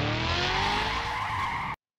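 Cartoon race cars take off with a loud, sustained tire skid and engine roar at the start of a race, steady and close for under two seconds before cutting off abruptly.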